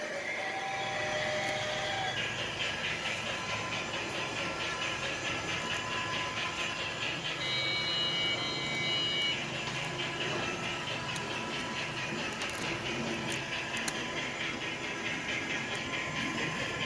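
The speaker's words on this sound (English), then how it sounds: "Here's the train." Lionel model train running on a home layout, a steady broadband hiss and rumble with faint whirring tones, continuous and fairly even throughout, with no talk.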